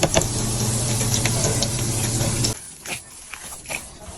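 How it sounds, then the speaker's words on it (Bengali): Round kebabs frying in a pan give a loud, dense sizzle for about two and a half seconds, then drop to a quieter crackle with a few soft bursts. "এই যে কাবাবগুলোকে আমি বানাই নিছি গোল গোল করে। এখন আস্তে আস্তে ভাজা শুরু করে দিব।"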